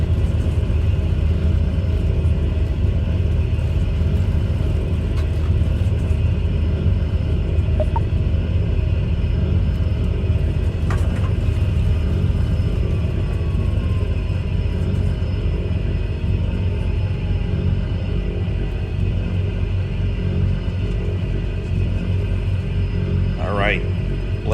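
A steady low engine rumble from an airliner taxiing in Microsoft Flight Simulator 2024, a continuous drone with a faint whine on top, while someone talks over it throughout.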